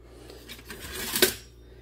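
Cottage cheese curds are scooped out of a pot, a quiet scraping of a utensil against the pot that builds to a brief metallic clink near the end.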